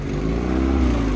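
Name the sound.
engine running in a tracker vehicle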